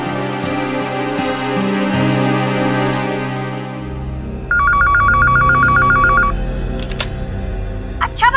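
A landline telephone rings in a domestic drama scene, giving a bright, rapid electronic trill that repeats in short bursts over background music, with a few sharp tones at the end.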